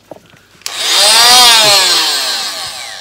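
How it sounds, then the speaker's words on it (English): A tool cuts wood while an interior door is being hung, a loud sustained grinding rasp that starts abruptly after a few faint knocks, then swells and holds for a couple of seconds before easing slightly. "I'm just gonna go in with the tool and just chisel out that sort of end bit"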